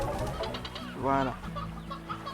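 Chickens cluck in a video game: a short run of soft clucks and one louder squawking call, close and clear over a quiet game background, with a voice speaking lightly in the mix.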